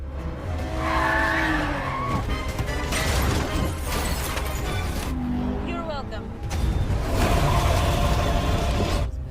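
In an action film car chase, a car speeds with engine roar and screeching, skidding tires amid crashing and rumbling effects, loud and continuous throughout, with voices at times over it.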